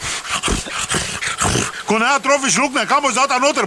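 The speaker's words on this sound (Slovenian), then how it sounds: "To je pes!" A dog whimpers and growls inside a car in rising, wavering whines over the second half, close and fairly loud, after a stretch of people talking and moving about.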